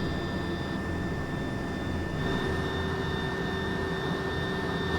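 Engine number two of a search and rescue helicopter spools up in a steady, loud turbine whine and roar that holds evenly throughout, heard from inside the cabin with a faint rising tone partway through.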